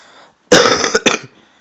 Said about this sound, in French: Excusez-moi si je tousse.